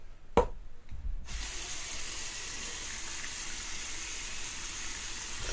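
Tap water runs steadily into a sink to wet a puck of Razor Rocks Triple X shaving soap, a broad constant hiss after a brief knock at the start, fairly close and with no talk over it.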